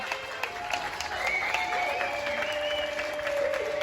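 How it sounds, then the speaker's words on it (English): A crowd at a ribfest applauds an award winner for best showmanship, dense steady clapping with faint whoops and a background voice rising over it. "A big round of applause for Gonzalez"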